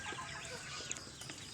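Pet ducks and chickens cluck and chatter continuously while being fed, with busy, dense background noise and no clear speech.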